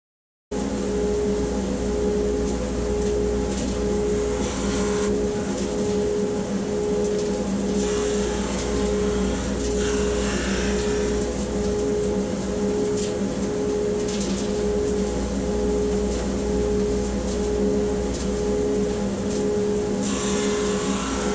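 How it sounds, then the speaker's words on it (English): Drum sander flattening a wooden segment ring, a loud, continuous mechanical drone with a steady hum and a gritty sanding hiss that rises and falls slightly as the wood is fed through. "I think the first one we're going to do is with the drum sander."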